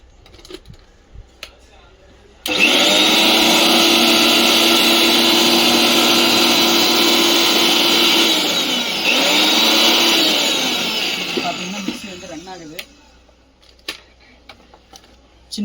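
A repaired mixer grinder motor, its small pin fault fixed, runs directly on mains power with no coupler fitted: a loud, steady whirring whine starts abruptly, dips briefly midway, then cuts out after about ten seconds, with faint handling noises before and after.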